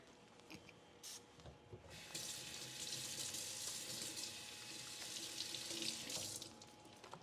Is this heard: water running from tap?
yes